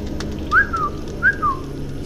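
A voice imitates whistling while telling a story, giving two short rising-then-falling whistles a moment apart against a quiet background hum.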